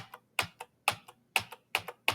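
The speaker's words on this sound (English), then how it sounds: "pressing home, and then typing the letter V to jump to value" Keys on a computer keyboard are pressed at a steady, deliberate pace, each click crisp and close with a softer release tap after it, about five presses in a quiet room.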